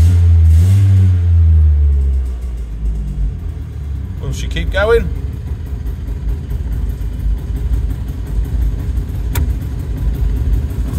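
A 1994 Piaggio Ape 50cc two-stroke trike gets a blip of throttle, its note rising and falling, then settles into a buzzing, uneven idle nearby while a person speaks briefly over it.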